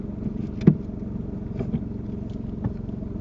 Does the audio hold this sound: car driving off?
yes